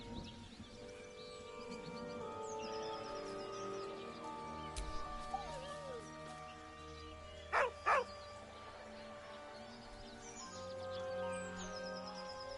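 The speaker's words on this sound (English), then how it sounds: "With a deep, heartbroken whine, the dog bows his head." In Baldur's Gate 3, a dog beside a corpse gives two short, close whining yelps over soft, continuous game music and ambience.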